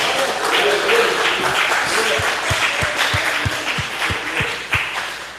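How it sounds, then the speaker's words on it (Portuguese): A church congregation applauds together in a lively burst, with steady low thumping beats pulsing beneath the clapping and a voice speaking over it at times. "Vamos aplaudir o nome do Senhor."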